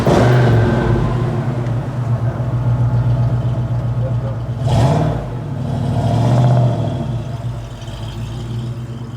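A torch red 1955 Ford Thunderbird with the top down pulls away, its V8 engine rumbling steadily and swelling as it revs, loud and close with continuous drive noise throughout.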